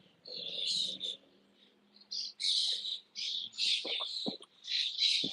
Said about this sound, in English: These birds are going wild.